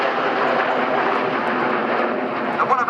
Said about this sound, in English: Now in from the left, the Typhoon loop